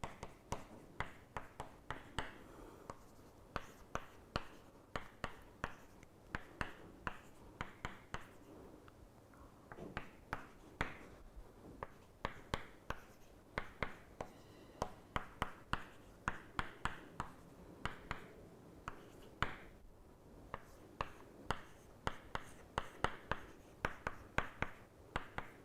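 Chalk or pen writing on a lecture board, a steady run of short taps and strokes repeating throughout at moderate closeness, with no talk over it.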